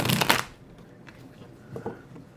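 Tarot cards shuffled by hand, a short crisp riffling burst at the start followed by quiet, with a couple of faint softer card rustles later.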